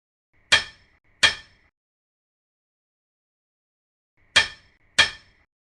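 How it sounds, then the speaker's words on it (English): A hammer in a virtual scaffolding simulation fixes a ledger to a standard: four sharp metallic knocks, two in quick succession, a long silence, then two more, each ringing briefly and cleanly with nothing else heard. "Use hammer to fix the ledger firmly with standard."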